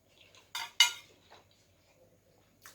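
Metal spoon striking and scraping a pot while scooping chicken rice pilaf, two sharp clinks close together followed by faint softer scrapes and a later light tap.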